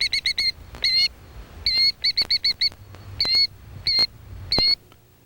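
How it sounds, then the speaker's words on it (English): Killdeer gives repeated sharp, high plaintive calls in quick bursts of three or four notes, clear and close, with short pauses between volleys and no voices. "Feigning its own death, the killdeer leads us away from the nest with a plaintive deception"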